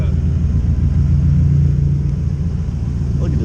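Engine of a big-turbo BMW 540i runs as a steady, close low rumble, holding a sustained drone with a brief rise in tone around the middle and no clear speech.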